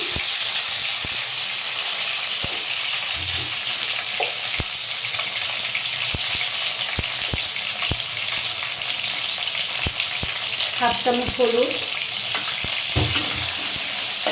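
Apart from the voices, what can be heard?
potatoes frying in a pan with salt and turmeric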